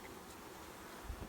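Honeybees buzz in a hive during a package install: a soft, continuous, close hum with a couple of faint low knocks near the end.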